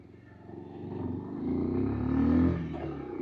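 A 2026 Bajaj Pulsar 150 motorcycle makes a U-turn, its engine a low, moderate rumble that swells gently as it revs through the turn, heard from nearby for a few seconds without speech.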